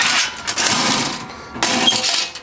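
Sections of a 1.2 mm 3CR12 stainless steel fire pit being lifted open by two handles, producing loud metallic scraping and clattering in two bursts close by, with a short lull between.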